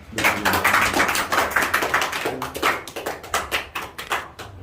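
A seminary retreat group applauds a speaker, with scattered, uneven claps from a modest crowd, close and fairly loud, rising and falling in bursts.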